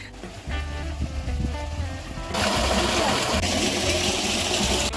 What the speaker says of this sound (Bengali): একদিকে স্যালোর এরকম জল এই মাঠের রাস্তার ছোট্ট ড্রেন থেকে কিন্তু মাঠের গভীরে এগিয়ে যাচ্ছে